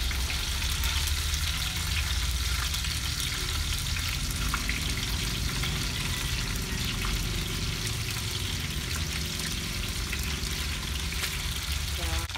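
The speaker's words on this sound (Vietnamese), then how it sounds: "Bây giờ dầu đã nóng lên rồi, bắt đầu mình chiên cá, để cá vô chiên." Fish fries in hot oil in a home kitchen, a steady, dense sizzle and crackle that continues evenly and close up for the whole stretch.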